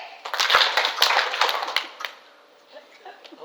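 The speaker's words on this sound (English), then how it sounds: "Second clap!" Several sharp hand claps ring out close by in an indoor room, with crowd noise and scattered smacks trailing into a quieter stretch.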